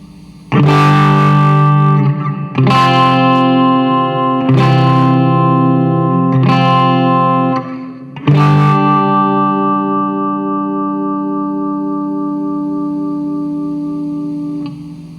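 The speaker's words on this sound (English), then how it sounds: "This is how it sounds on the bridge and neck together." A Jackson Dinky JS32 electric guitar with bridge and neck pickups combined plays five distorted chords in steady succession, each ringing loud and sustained, the last one left to fade slowly.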